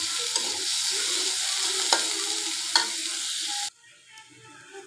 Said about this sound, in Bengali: পেঁয়াজ কুচিটা ভাজা হওয়া পর্যন্ত অপেক্ষা করি।